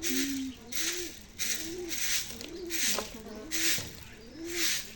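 Pigeons coo nearby in a repeated rhythmic series of low, rolling calls. Each call swells and fades, with a faint background hiss between them.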